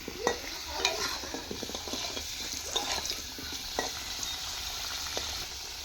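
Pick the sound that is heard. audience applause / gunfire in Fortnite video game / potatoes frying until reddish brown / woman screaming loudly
potatoes frying until reddish brown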